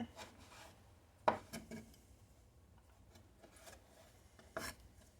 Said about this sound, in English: Let's go ahead and slice some of these up a little thinner while we're at it.